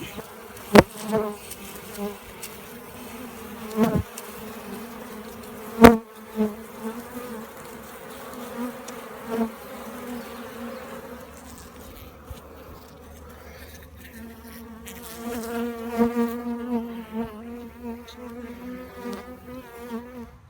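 A swarm of honeybees balling a queen outside a church, a continuous close buzzing hum with individual bees droning past, a few sharp knocks and bumps over it.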